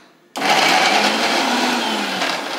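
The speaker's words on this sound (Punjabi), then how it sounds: "ਇਹਨੂੰ ਬ੍ਰੇਕ ਦੇ ਕੇ ਜੀ ਮਿਕਸੀ ਨੂੰ ਚਲਾਉਣਾ ਤਾਂ ਕਿ ਸਾਡੀ ਮਿਕਸੀ ਵੀ ਖਰਾਬ ਨਾ ਹੋਵੇ" A mixer grinder whirs into life after a brief quiet start, grinding guava chutney with a loud, steady, close motor roar that holds without a break and has no voices over it.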